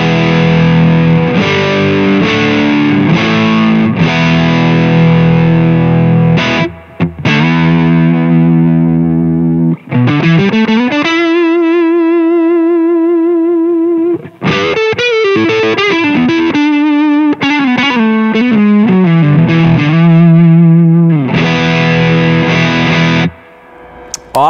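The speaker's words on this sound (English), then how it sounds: "Here's my clean tone on the single coils. Now with the pedal engaged." Electric guitar on single-coil pickups runs through a Mesa/Boogie Gold Mine overdrive pedal into a 2x12 Lone Star open-back cabinet, playing loud crunchy chords and sustained bending lead notes in phrases separated by short gaps.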